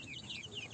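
A bantam (kate) chicken gives a short burst of soft, close clucking, brief and fairly quiet.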